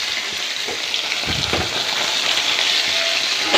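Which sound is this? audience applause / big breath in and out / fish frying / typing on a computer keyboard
fish frying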